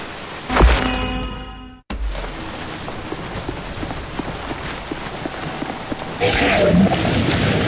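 Steady pouring rain hisses across the whole stretch in The Bureau: XCOM Declassified, broken early by a loud metallic ring and clang and a brief cut, then swelling a little louder near the end.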